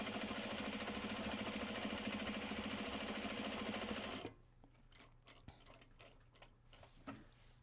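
A sewing machine stitches Japanese fabric in a steady, rapid mechanical run for about four seconds, then stops, leaving faint clicks and handling noises.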